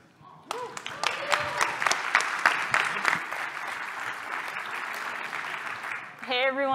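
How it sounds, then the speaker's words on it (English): Audience applause for two conference speakers taking the stage at a technical talk, a dense burst of clapping that starts abruptly, holds steady and loud for several seconds, then fades as a voice begins. "Give them a hand."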